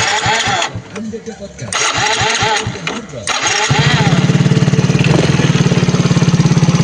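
A Yamaha Mio Soul GT scooter engine cranks and sputters through a few starting attempts, then catches and settles into a steady, rapid, close idle putter. Someone talks over the cranking.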